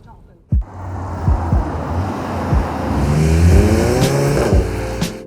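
A 2019 Porsche Macan engine hums and rises as the SUV cruises through town at moderate speed, with occasional thumps and a gradual rev building near the end.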